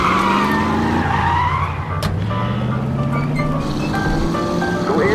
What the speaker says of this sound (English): That's my car there. I'll drive.